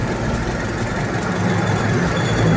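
Mitsubishi Lancer with a 4G13 engine and 2E carburetor idles at about 700 RPM, a steady low rumble with a faint regular ticking pulse, close and continuous with no voices.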